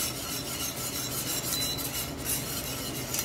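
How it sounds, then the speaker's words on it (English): A whisk scrapes steadily around a pan of roux gravy with beef broth, a close, continuous rasping swirl with a faint sizzle underneath and no talking. "Making sure you're whisking consistently so that we don't have anything burned to the bottom of our pan."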